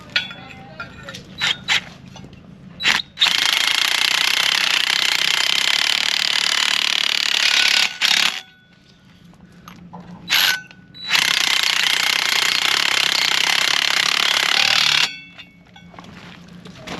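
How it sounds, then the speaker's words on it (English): An impact driver sets Sturdi-wall anchors, loud sustained hammering bursts of several seconds each, separated by short gaps, close by. "we just drive them in with an impact"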